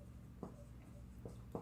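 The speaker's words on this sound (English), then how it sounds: "So let's write that here." A pen writes on paper during a talk on wealth, giving three brief scratchy strokes, close and quiet, with low room hum underneath.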